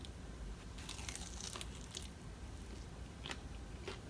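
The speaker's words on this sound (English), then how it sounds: "I don't know if y'all going to be able to hear the crunch because of the distance of the camera" A crunchy taco is bitten and chewed close by, giving several loud, crisp crunches in irregular bursts over a steady room hiss, with no talking.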